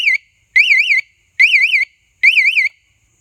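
A motorcycle security alarm triggered by a bump sounds four loud warbling electronic bursts, each about half a second long, separated by short silences.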